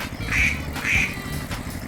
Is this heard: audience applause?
no